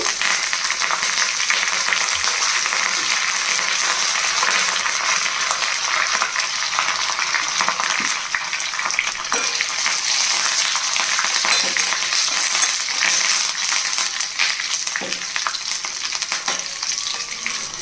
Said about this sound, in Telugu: తాలింపు చక్కగా వేగిపోయింది